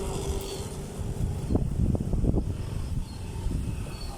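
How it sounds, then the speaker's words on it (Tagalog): Steady broadband rushing and buffeting, like strong wind hitting a microphone, with a few brief thumps in the middle. "Masyado po mahangin dito."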